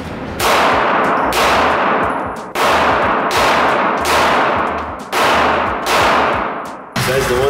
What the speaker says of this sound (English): we're gonna shoot MP5 and all that good stuff